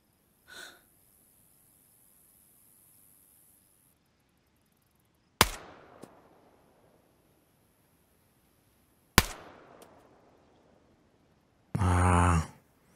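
Two sharp, isolated gunshots in the survival game DayZ, each a loud crack followed by a fading echoing tail, set apart by several seconds of near silence, with a brief soft sound before and a louder noisy burst after.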